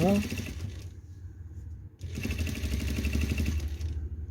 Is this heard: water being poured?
no